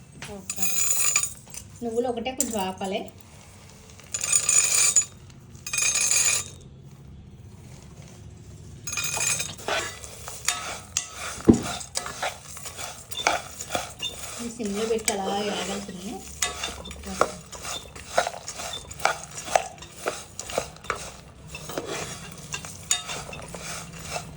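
Seeds and nuts, including pumpkin seeds, are tipped into a pan and stirred for dry fruit powder laddu, with scraping, clinking and faint sizzling. A few short voice-like bursts come early, then a long stretch of continuous stirring clatter.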